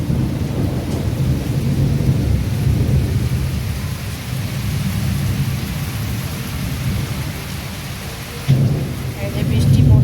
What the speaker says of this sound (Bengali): এই যে বৃষ্টি পড়ছে, কেমন মেঘ ডাকছে